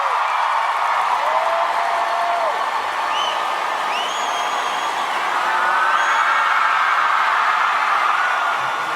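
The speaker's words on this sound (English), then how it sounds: "you could just see the crowd freaking the fuck out when this happens" A large arena crowd roars, cheers and applauds with scattered whistles as Rihanna receives the 2016 Michael Jackson Vanguard Award, a dense, sustained wall of noise throughout.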